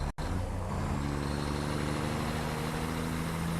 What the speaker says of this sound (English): I love the sound. It really sounds good, this tractor.